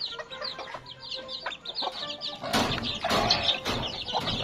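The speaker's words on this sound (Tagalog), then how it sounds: "So, ito yung ating mga bantams." Bantam chickens on a rural farm cluck and squawk close by in quick, busy bursts, with a few louder flurries and rustling toward the end and no talk.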